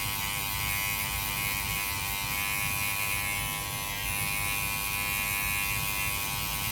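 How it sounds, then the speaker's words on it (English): A barber's hair clipper runs with no guard and the blade lever fully closed, giving a steady, close electric buzz that holds constant throughout with no talking. "now we're just gonna go with the clipper all the way closed with no guard"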